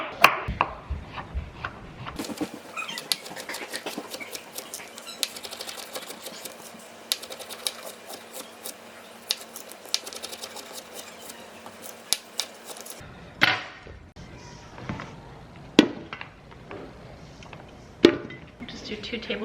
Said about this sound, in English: I'm gonna cut them about 1/4 inch thick.